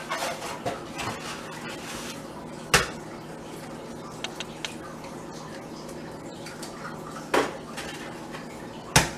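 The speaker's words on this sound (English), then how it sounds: "My egg cracking mojo has been off lately." Eggs are cracked into a bowl in a home kitchen, giving several sharp knocks and clinks against the bowl rim amid light rattling of dishes and utensils.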